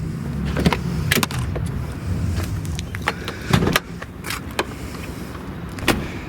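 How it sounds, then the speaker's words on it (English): A low mechanical hum of a motor pulling a second-generation Lincoln Town Car's trunk lid closed, with a few sharp clicks and latch knocks scattered through it. "Just click it in and it sucks down nice and easy"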